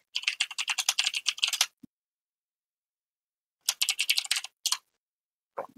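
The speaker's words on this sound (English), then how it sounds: "Oh, sorry for typing noise." Rapid computer keyboard typing comes in two close bursts of crisp clicking keystrokes separated by a silent pause, with a few isolated key taps at the end.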